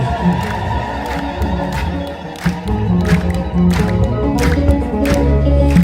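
An Ethiopian Orthodox congregation ululates in praise during a hymn to Saint Raphael, a loud, sustained crowd sound with rhythmic clapping and scattered cries throughout.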